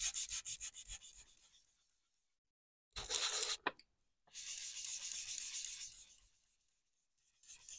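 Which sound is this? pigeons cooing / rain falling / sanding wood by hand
sanding wood by hand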